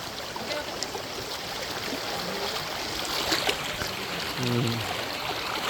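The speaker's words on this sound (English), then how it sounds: "We are just trekking in the water." Steady rushing and splashing water as footsteps wade through a shallow stream inside Son Doong cave, Vietnam, with a low continuous background wash and no talking.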